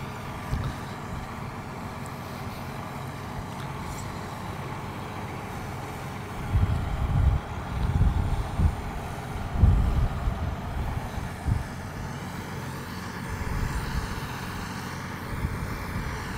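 Valtra M320R tractor straining to pull a stuck vehicle out of a field, a low diesel drone that swells into heavier, rumbling bursts of engine load in the middle before settling back to a steady hum.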